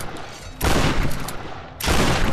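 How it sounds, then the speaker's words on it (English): Shotgun firing in the Tomb Raider video game, two heavy close blasts just over a second apart, each a broad roaring burst with a long rough decay, no talking. "Shotgun."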